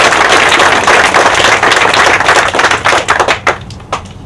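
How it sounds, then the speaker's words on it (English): An audience at a groundbreaking ceremony claps in a dense, loud burst of applause that thins into a few scattered final claps. "let's just clap for her anyway."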